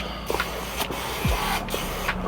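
Short hissing sprays of shoe cleaner onto Nike sneakers, a few quick bursts in a row close by.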